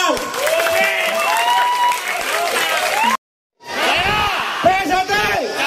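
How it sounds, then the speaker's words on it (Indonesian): A large outdoor crowd at a PSHT community gathering in Cianjur claps and cheers with shouts and whoops mixed in. The sound cuts out briefly partway through, then comes back just as loud with voices calling over it. "Tepuk tangan."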